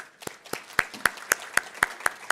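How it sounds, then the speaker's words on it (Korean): A church congregation claps in a steady, even rhythm, nine or ten crisp beats in quick succession at close range. "우리 박수 한번 하시죠."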